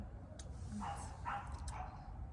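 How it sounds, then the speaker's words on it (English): A dog barks a few times at a moderate distance over a steady low background rumble, the short yelping barks rising briefly above the noise. "The dog just started to bark."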